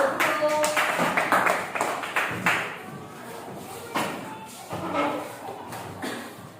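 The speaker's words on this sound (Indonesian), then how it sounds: "tepuk tangan buat kelompok 1" A classroom of students claps for a group that has just finished making paper hats: scattered, uneven bursts of hand clapping that are strongest at the start and flare again briefly later, with some faint voices mixed in.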